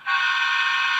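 A Walthers Mainline ES44AC GEVO model locomotive with an ESU sound decoder sounds a short, steady, bright horn blast, close and loud, cut off after about a second with no voices.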